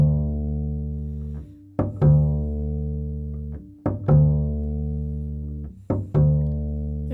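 An upright bass in a bluegrass style plays a muted percussive ghost-note click, then a sustained pitched bass note. The pattern repeats three times in an even rhythm, close and clear with no voices.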